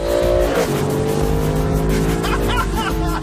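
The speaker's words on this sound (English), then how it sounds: "let's see what this SLS Black is like to drive." Mercedes-AMG SLS Black Series being driven: a loud, close engine note rising and falling through revs, with gear-change dips and throaty acceleration throughout, heard from inside or near the car.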